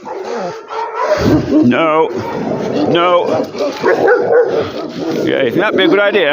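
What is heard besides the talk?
dog barking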